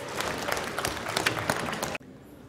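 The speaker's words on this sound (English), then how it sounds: "Let's give our precognitive folks a round of applause" A small audience applauds with quick, dense clapping for about two seconds before it stops abruptly.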